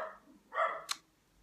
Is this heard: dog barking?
yes